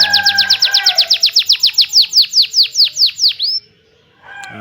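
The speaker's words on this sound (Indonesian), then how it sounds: "Ini dia suara kenari gacor untuk pancingan kenari malas" A lively canary sings loudly and close, rolling out a fast, even series of rising chirps that builds and then stops, followed by a brief faint twitter.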